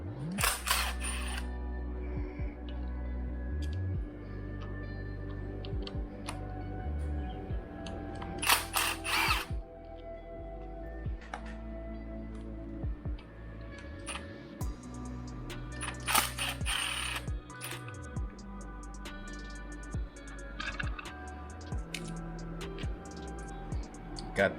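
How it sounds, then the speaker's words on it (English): Hand tools removing guide bolts during an engine teardown, with repeated ratcheting clicks and metallic clanks, a few sharp bursts standing out over a low steady background hum. "We're also gonna go ahead and remove 3 of these bolts for this side of the guides."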